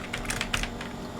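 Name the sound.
typing code on a computer keyboard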